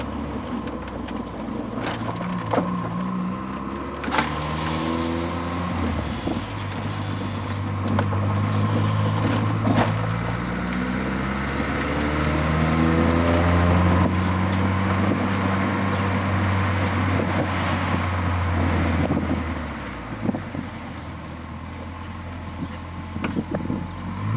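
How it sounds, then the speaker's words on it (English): 1987 Honda Accord hatchback with a VTEC B-series engine swap and a loud 3-inch exhaust with two Magnaflow mufflers, a deep droning engine note rising and falling through revs, steady and close. "Seems like it's extraordinarily loud. It's because it is. 3-inch exhaust. I have 2 magnaflows on it"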